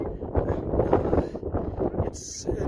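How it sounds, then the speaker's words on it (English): Steady, rough wind buffeting close against the microphone on the Colorado Trail in cold, wet weather, a continuous low roar that surges and eases without pause. "it's windy and wet"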